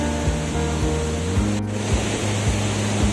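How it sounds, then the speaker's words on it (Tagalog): Naculo Falls waterfall in Cavinti, Laguna, roars as a steady broadband rush of falling water, loud and continuous throughout, with a few low thumps underneath. "So sa side nito yung Nakulu Falls."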